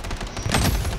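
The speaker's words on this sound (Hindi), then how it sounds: "कहीं भी छुप जाए मेरा टरेट इन्हें गोलियां मारता रहेगा।" Automatic turret fire in the video game Blood Strike, a dense burst of rapid overlapping shots that swells louder midway and stays close and continuous, with no talk over it.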